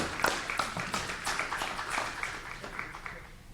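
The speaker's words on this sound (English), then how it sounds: "I hope you'll join me in giving him a round of applause" Lecture audience applauding a speaker, a steady wash of many hands clapping at moderate distance, fairly soft and even for a few seconds.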